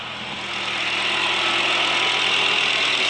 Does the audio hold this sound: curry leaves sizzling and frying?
no